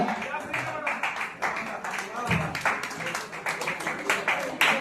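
An audience claps at a theatre festival award ceremony, dense rapid applause filling the room steadily and close, with a few louder bursts throughout.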